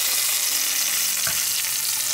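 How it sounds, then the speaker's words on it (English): Steady, loud sizzling of tempeh frying in a hot pan, continuous crackle with a faint clink partway through. "We are frying it."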